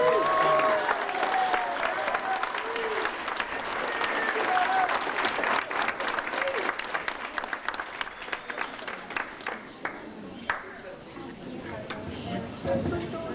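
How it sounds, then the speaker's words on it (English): Audience applause at a middle school 8th grade awards banquet, steady and full for the whole stretch with a murmur of crowd voices underneath, thinning slightly toward the end. "How about a round of applause?"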